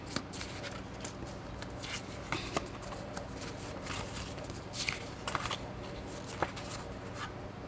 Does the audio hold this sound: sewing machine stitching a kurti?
no